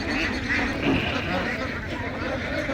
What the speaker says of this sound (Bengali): সুন্দরভাবে রাজহাঁসগুলো গোসল করছে দেখেন